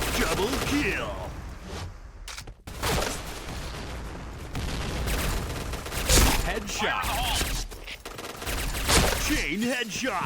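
Suppressed P90 submachine gun fire in the shooter Point Blank, with muffled bursts of shots coming repeatedly across the stretch alongside other game effects, while someone talks over the action.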